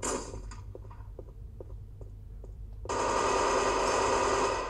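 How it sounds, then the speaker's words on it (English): Gunfire in the VR shooter Firezone on Oculus Go, a run of faint, distant rapid shots followed by a louder, denser burst of game noise, with no talking. "I can hear people shooting each other."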